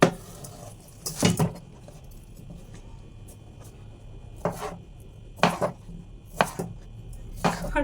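A knife cuts cucumber on a board in short, separate bursts of crisp chopping. The cuts come a second or more apart and stand out against a quiet background.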